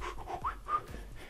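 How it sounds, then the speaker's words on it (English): A person breathes heavily while drawing, making rhythmic panting breaths with a faint whistling, tuneful quality, close and fairly loud. "it seems like I'm breathing heavy and it almost sounds like a song"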